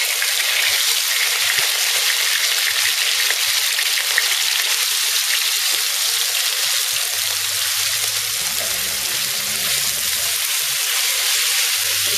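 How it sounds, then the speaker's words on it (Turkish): Loud, steady sizzling of very thinly chopped meat for tantuni frying in a hot pan, a dense crackling hiss that continues without pause. "artık çok ince doğradığımız etimizi bırakıyoruz."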